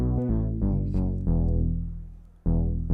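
Unaltered bass patch from iZotope Iris, layered with a second bass: deep, sustained tonal notes restarting in uneven hits, loud and full, with no voices over it.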